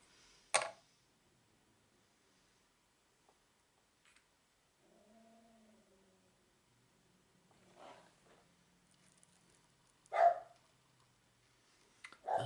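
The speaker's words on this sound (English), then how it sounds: "That, as you can no doubt guess, is my dog Bobby, reminding me that he's outside and now he wants to come back in" Bobby the dog barks outside, a few sharp, spaced-out barks at moderate distance with quiet stretches between them.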